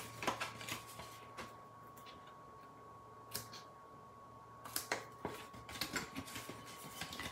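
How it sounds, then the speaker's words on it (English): Quiet, sharp snipping sounds of dull scissors trimming small paper tabs come in small bursts, a few isolated cuts followed by a quicker cluster of short snips, over a low steady hum. "I think my scissors need sharpening"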